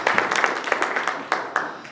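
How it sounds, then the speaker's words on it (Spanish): Church congregation clapping for Jesus, a brief burst of scattered hand claps from a crowd, fairly close and fading toward the end. "Démosle un aplauso a Jesús, hermanos, al Rey de Reyes y Señor de Señores."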